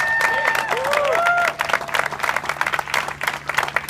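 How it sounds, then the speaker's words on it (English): Audience applause as young James is welcomed onstage at a bone marrow donor and recipient meeting, a dense patter of clapping rising after a brief tonal whoosh at the start, steady and fairly close. "Go ahead, give him a round of applause."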